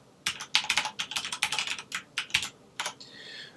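Computer keyboard typing while entering a username and password during FreePBX setup, a quick irregular run of close crisp keystrokes with brief pauses, ending in a softer patter.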